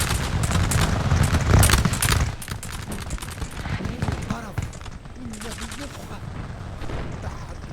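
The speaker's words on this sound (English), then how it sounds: "let's get these guys out in volley of firing" Musket volleys from massed infantry in a Napoleonic battle game set in Egypt, crackling in a dense burst of loud shots at first, then easing into scattered distant firing and battlefield din under a talking voice.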